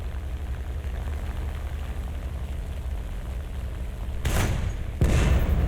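Two heavy booms from a tank cannon firing AP and HE rounds in the video game War Thunder, spaced under a second apart over a constant rumbling engine-like background.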